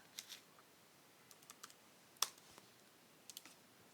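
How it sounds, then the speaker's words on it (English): Faint, sparse keyboard key clicks as a word is typed, a handful of scattered light taps with one sharper click, quiet and close with no voices. "Type delete here."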